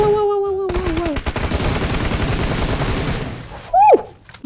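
Rapid gunshots from a shooter video game crackle in a dense, continuous burst for about three seconds, loud and close, after a brief lead-in of other game sounds.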